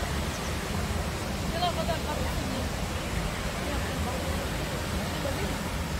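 Ouzoud waterfall in Morocco roaring at its base, a constant loud rush of falling water filling the whole stretch, with faint crowd murmur underneath.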